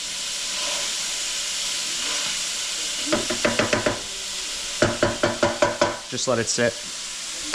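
Ground beef browns in a hot pan with a steady hiss and sizzle, broken by bursts of scraping and stirring clatter, while a voice speaks briefly.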